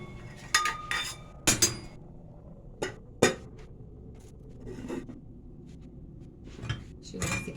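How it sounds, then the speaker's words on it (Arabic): A metal spoon set into a dish in a home kitchen gives a series of sharp, close clinks and taps, some in quick pairs, with quieter knocks between. "بحط فيه معلقتي"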